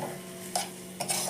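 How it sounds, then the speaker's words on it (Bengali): Chicken keema stirred and sautéed in a pan over low gas, a soft steady sizzle broken by two brief scraping strokes of a spatula close by. "এটাকে এখন কষাই, একটু আস্তে করে গ্যাসটা করে কষাতে কষাতে তেল ভেসে উঠবে"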